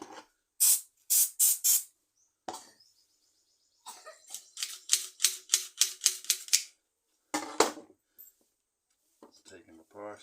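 Penetrating oil is sprayed into a hedge trimmer in short, sharp hissing bursts: a quick cluster of three or four squirts, then a longer run of rapid spritzes, with quiet gaps between them.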